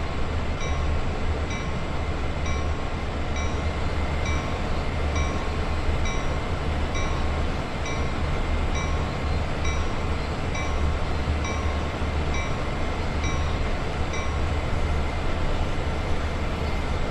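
A diesel freight locomotive in Train Sim World 2 on Sand Patch Grade drones steadily at close range, a constant low engine rumble with a faint high whine and no talk over it.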